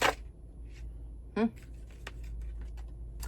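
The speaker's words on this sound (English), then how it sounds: "I've cleansed the deck, and I just started shuffling" Oracle cards from the Witching Hour Oracle deck riffle and slide against each other in a quick burst, followed by soft tapping and handling sounds over a low background hum.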